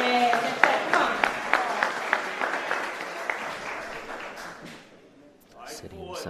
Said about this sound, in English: Big round of applause, spectators.